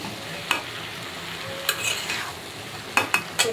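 Okra sizzles and fries in a hot pan, a steady crackle broken by a few sharp scrapes and knocks of a stirring utensil against the pan.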